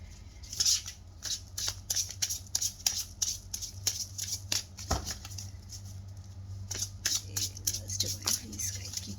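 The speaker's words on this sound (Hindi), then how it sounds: "जब तक मैं कार्ड की शफलिंग करती हूँ" Tarot cards being shuffled by hand, a run of quick crisp riffling and snapping bursts repeating in uneven rhythm at close range over a low steady hum, with no talk.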